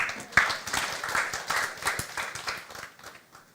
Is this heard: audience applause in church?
yes